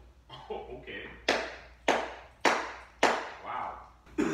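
Canvas Dior Oblique low-top sneakers are slapped together outdoors at a patio door, five sharp, separate smacks about half a second apart, with a voice talking briefly between them.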